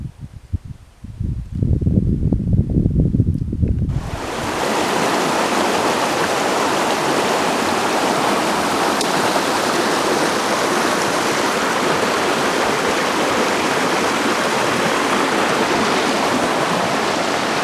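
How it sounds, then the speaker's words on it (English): The Stewart River flows past a campsite on the Superior Hiking Trail in a loud, steady broadband rush, rising abruptly after a few seconds of quieter low rumble and then holding constant and close. "nice flowing river there"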